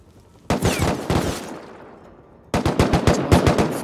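Minigun fire in the survival game Rust, two loud rapid bursts of closely spaced shots, the first about a second long and the second after a short pause, with fading echo between.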